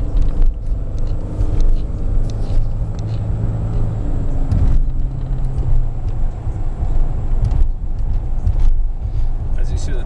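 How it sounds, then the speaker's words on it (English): A 2005 Nissan Pathfinder XE 4x4 with a 4.0-liter V6 and automatic transmission drives along, heard from inside as a steady low engine and road rumble with slight shifts in pitch as it changes gears. "As you see, the transmission shifts correctly."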